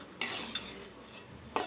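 Hot instant aval upma mix of flattened rice being stirred in a pan, with a few brief spatula scrapes against the metal over a quiet background.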